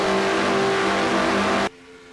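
Race cars roar at full throttle around the Michigan oval in an NNSCRA IROC event, a loud, steady engine drone with a strong tonal whine that cuts off abruptly near the end.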